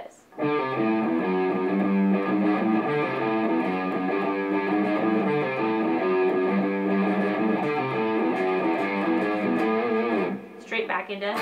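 An electric guitar plays the bridge of Aerosmith's "Sweet Emotion". The full, ringing notes continue steadily for about ten seconds with no voice over them, then drop away.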